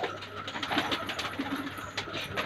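Jaaldar kalseere pigeons coo softly and repeatedly in a loft at close range, low murmuring calls over faint background rustle.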